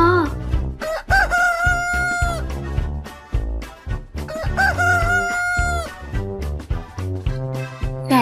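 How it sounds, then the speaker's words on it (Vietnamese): A rooster crows loudly and close, two long drawn-out cock-a-doodle-doo calls over a musical backing, each rising and then holding a strained tone. "Gà gáy thật to,"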